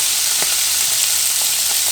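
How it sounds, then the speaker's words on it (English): Continuous close-up crackling sizzle of duck frying in hot grease, with small pops scattered throughout. "listen to that sizzle"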